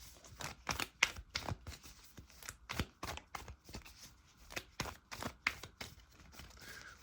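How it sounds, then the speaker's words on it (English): Tarot cards are shuffled by hand up close in a quick, rhythmic series of papery snaps and riffles, with no voices present. "Let me shuffle a little bit more."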